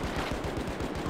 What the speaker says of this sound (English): Can't wait to shoot my shotgun.